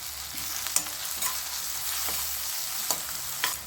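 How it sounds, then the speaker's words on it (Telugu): Grated ginger and turmeric sizzle in hot oil in a pan while a spoon stirs them for a tomato egg curry. A continuous close frying hiss is punctuated by several sharp spoon scrapes and clinks against the pan. "చిన్న స్పూను అల్లం చిన్న స్పూను పసుపు వేసి మంచిగా వేయించుకోవాలి"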